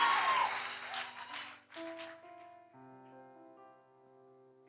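A church congregation gives a short burst of clapping that fades within about two seconds. Sustained electronic keyboard chords follow, clear and fairly close.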